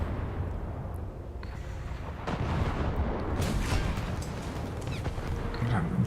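Warship guns fire in World of Warships, the Soviet cruiser Scherbakov engaging a Leopard: heavy booming salvos and crackling blasts roll over a constant rumble of engine and sea, with a couple of sharp peaks.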